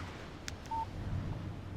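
A cellphone in the video game Alan Wake gives a short electronic beep as a text message arrives, a single clear tone over low room ambience, preceded by faint clicks.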